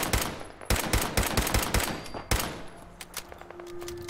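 Pistol fire in the Fallout 4 video game: a rapid string of loud, sharp shots, some in quick pairs, followed by a few scattered reports and a lingering tail.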